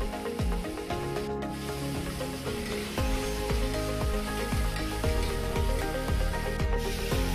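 Tomatoes cook down with salt in a pan, giving a steady soft sizzle with scraping and light rhythmic tapping from stirring, continuous and fairly close with no talk.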